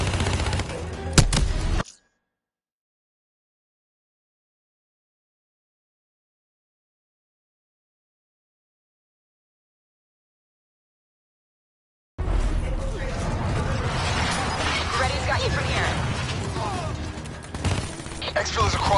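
Gunfire from a Call of Duty Black Ops III firefight, loud and dense for about two seconds, then a long dead silence before a sustained roar of shooting and battle noise resumes, with a voice talking amid the din.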